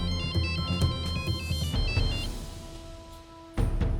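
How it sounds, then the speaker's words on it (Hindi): A phone ringtone plays while a call is placed to a police station, a bright repeating electronic melody that cuts out partway through, followed by a short ringing tone, loud and near with no speech. "मनोज, परसों पुलिस स्टेशन फोन लगाओ।"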